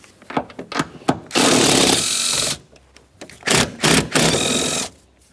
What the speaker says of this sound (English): we're going to remove our 2 13mm headed mounting nuts